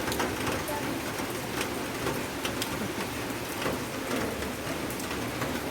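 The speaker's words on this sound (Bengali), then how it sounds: "টিপির টিপির টিপির টিপির করে বৃষ্টি পড়ছে।" Steady rain falling on a village pond, a dense even patter of drops throughout with faint bird calls in the background.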